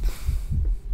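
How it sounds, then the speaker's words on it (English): A heartbeat in the horror video game Layers of Fear throbs as deep, muffled low thumps repeating in a steady rhythm, loud and close with no talk. "there is that heart beating thing"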